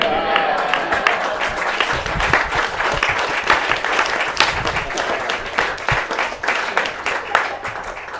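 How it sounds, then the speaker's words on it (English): Audience applause fills a comedy stand-up show: dense, steady clapping from a large crowd, loud and sustained throughout with a few louder bursts and no break. "Generally, men don't clap for that."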